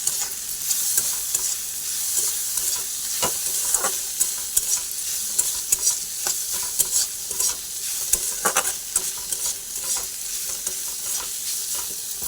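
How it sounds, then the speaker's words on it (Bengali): Sandwich filling seasoned with a pinch of turmeric sizzles and fries in a pan, stirred continuously with a utensil that scrapes and taps the pan in an irregular rhythm, close up and alone without voices. "চলো আরও একবার ভালো করে নেড়ে নিই"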